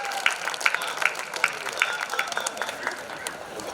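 Audience applause at a Hindi kavi sammelan poetry recital at a Krishi Mela fair, scattered rhythmic claps from a crowd at moderate distance, fairly light and irregular.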